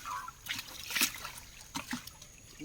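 Water from a bucket poured into a motor at a fish farm in Kerala; faint, intermittent trickles and small splashes come in short bursts against a quiet background.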